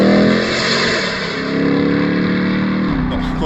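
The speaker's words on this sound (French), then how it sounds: "une bagnole de ce poids-là, de cette taille-là qui accélère comme ça" A RAM 1500 TRX pickup truck accelerating hard, its big engine a loud, steady, close roar that holds for several seconds with no one talking.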